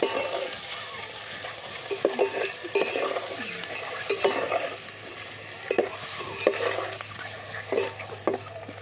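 Eggs stir-frying in oil for egg biryani, a constant sizzle broken by repeated scraping stirs of a spoon against the pan, close and without talk.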